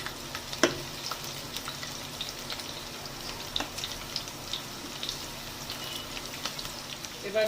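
Minced garlic, added after ginger, fries in hot white oil with a soft, continuous sizzle, broken by occasional clicks and taps of a utensil against the pan.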